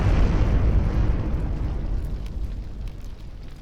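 Video game explosion in Friendsim 2: a deep, rumbling blast that fills the low end and slowly fades over a few seconds, heavy and continuous with no voices.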